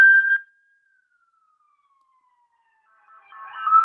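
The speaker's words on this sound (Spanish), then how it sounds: "perdón el ruido, pero justo pasó una ambulancia" An ambulance siren wails briefly at the start, then fades into silence as the vehicle passes; faint traffic noise rises again near the end.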